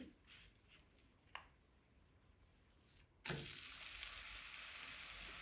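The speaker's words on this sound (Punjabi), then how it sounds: "ਪਰੌਂਠੇ ਨੂੰ ਆਪਾਂ ਦੋਨਾਂ ਸਾਈਡਾਂ ਤੋਂ ਚੰਗੀ ਤਰ੍ਹਾਂ ਸੇਕ ਕੇ ਤਿਆਰ ਕਰ ਲਵਾਂਗੇ" A potato and fenugreek paratha frying in ghee on a hot griddle. A quiet pan hiss suddenly bursts into a loud, steady close sizzle that carries on to the end, with no voices.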